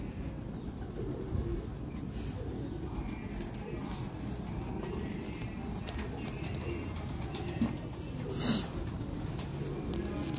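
Teddy pigeons in a Lahore loft give soft, low cooing at a modest distance, steady over a quiet background with a few faint chirps.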